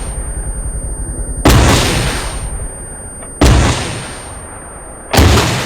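Rocket artillery launches in the military video game Arma 3, comparing Spanish Army HIMARS and Lynx launchers: three loud, sharp launch blasts spaced about two seconds apart, each trailing off into a roaring rumble over a constant background hum.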